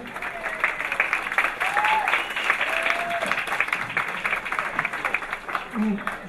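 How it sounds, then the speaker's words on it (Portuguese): An audience at a social media week panel in São Paulo claps together, a sustained patter of applause rising and falling for several seconds, with a voice speaking briefly over it. "Palmas."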